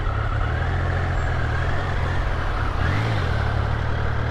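A motorcycle engine idles roughly and low, sounding close to stalling, with a steady low throb that dips and surges briefly near the end; rain-soaked roadside setting, no talk.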